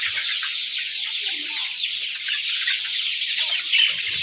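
Sonali and red laying hens cluck steadily in a flock, a busy continuous chorus of close clucks with no pauses and a brief louder call near the end.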